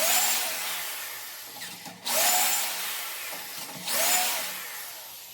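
A power drill boring holes in wood whirs steadily, with its pitch dipping and recovering in three rising surges as it bores, loud and close with no talking.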